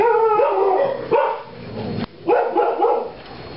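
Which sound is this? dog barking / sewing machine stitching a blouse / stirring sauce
dog barking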